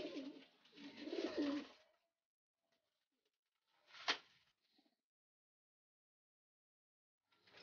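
A restless young pigeon struggling while held for a vitamin dose, with a brief burst of close wing flapping, a single sharp flutter moments later, then near silence.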